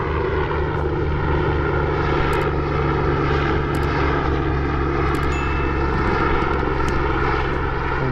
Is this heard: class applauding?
no